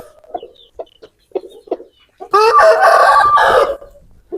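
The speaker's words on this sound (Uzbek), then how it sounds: "Juda ham chiroyli kul xo'roz ekan mana" A grey rooster gives a few short, separate clucks, then one loud, full crow lasting over a second, close by with no talk.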